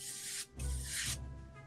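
Airbrush spraying paint badly, giving two close, uneven bursts of breathy hiss that sputter and cut off, with a faint low mechanical tone between them.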